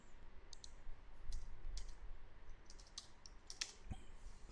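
Sparse clicks of keys on a computer keyboard while code is typed, a handful of soft irregular taps over a steady low background hum.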